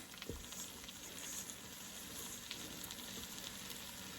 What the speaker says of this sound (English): now we're going to put our meat on there. And let your meat go ahead on and fry on up.